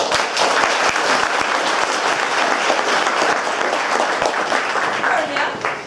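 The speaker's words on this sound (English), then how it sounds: "one round of applause for this season's fan favorites!" An audience at a production of A Midsummer Night's Dream applauds the season's fan favorites, steady dense clapping from a large crowd that fills the space at full strength throughout, with scattered sharper individual claps standing out.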